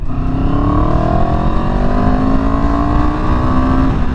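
A CFMOTO CL-X 700 motorcycle in eco mode pulls hard in second gear from 3,000 RPM, a loud, continuous engine roar rising smoothly in pitch throughout.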